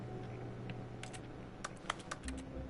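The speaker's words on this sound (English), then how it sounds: "Every time I press exit, makes a keyboard sound." Computer keyboard typing in The Stanley Parable video game, a few soft clicks and then a quick cluster of sharp keystrokes toward the end, faint over a low hum.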